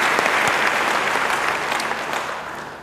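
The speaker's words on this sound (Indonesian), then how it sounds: "Beri tepuk tangan yang baik bagi dia." Warm applause from a church congregation fills the space, dense steady clapping that holds strong throughout and then gradually tapers slightly toward the end, with no speech over it.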